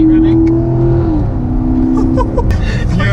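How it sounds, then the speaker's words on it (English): Corvette C7 Grand Sport collectors edition engine revving loudly with a steady droning tone, its pitch dipping partway through, running continuously under talk from people inside the car. "if you get your foot down, go on, go, keep revving"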